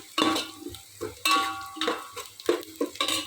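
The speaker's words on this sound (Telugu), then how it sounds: "వేగుతూ ఉన్నాయి కదా." Chicken pieces and rice frying in a pan for biryani, with a soft sizzle under repeated stirring scrapes and light clinks of a utensil against the pan, fairly close and moderate in level, no talking.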